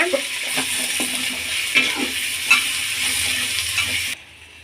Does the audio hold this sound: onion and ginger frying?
yes